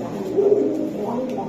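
Pigeons coo at a bird sale, a soft low throaty warble rising briefly mid-clip, close by amid faint background chatter.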